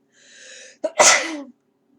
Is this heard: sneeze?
yes